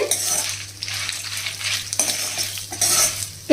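Dried red chillies and chana dal fry in hot oil while a spoon stirs and scrapes the pan, making a close, crackling sizzle broken by intermittent clatter.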